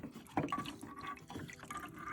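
Water drips and trickles softly from the coin trap of an LG washing machine as it is loosened, a faint, uneven patter of small splashes heard close up.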